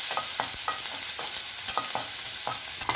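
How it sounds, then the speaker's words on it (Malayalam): Onions and curry leaves sauté in a pan for potato rava vadas, producing a soft continuous sizzle with regular clicking scrapes of a spoon stirring, close and with no voices. "ഉള്ളിയിട്ട് നന്നായിട്ടൊന്ന് വഴറ്റുക."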